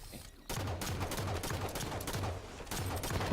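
Rapid bursts of automatic gunfire from a Halo 5 multiplayer match, loud and sustained in repeated volleys after a brief quieter start.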